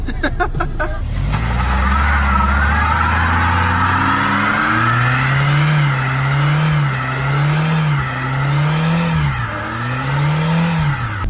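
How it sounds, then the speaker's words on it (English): A factory-supercharged rear-wheel-drive minivan revs hard into a burnout, its engine note climbing and then wavering up and down in repeated surges under a rough roar from the spinning tires, loud and close. "It's a rear-wheel drive minivan that's factory supercharged and does really sick burnouts."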